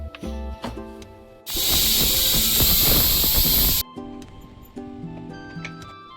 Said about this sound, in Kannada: ಕುಕ್ಕರ್ ಕ್ಲೋಸ್ ಮಾಡಿ 4 ರಿಂದ 5 ವಿಷಲ್ ಹೊಡ್ಸ್ಕೋಬೇಕು.